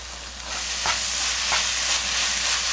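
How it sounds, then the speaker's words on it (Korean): Spicy fish cakes with minced hot chili and corn syrup are stir-fried in a pan, giving a continuous close sizzle with soft scraping stirs every so often and no talking. "이거는 매운 어묵 볶음을 지금 하는 거예요"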